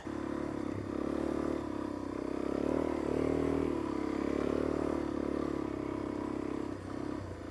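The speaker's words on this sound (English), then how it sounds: "Is it easy to do sand with dual sport tires and a DRZ 400S?" Suzuki DRZ 400S dual sport motorcycle on dual sport tires ridden through sand dunes at St. Anthony, Idaho, its engine droning and rising and falling steadily, close and loud, with no talk.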